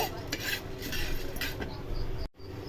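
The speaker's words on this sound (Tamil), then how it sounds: "துவரம்பருப்பு நல்லா வறுத்துருங்க, ரொம்ப வறுக்காதீங்க" Toor dal dry-roasting in a pan, with steady scraping and stirring clinks of a spoon against metal and a faint continuous rustle of lentils, close and fairly loud, ending in a brief drop.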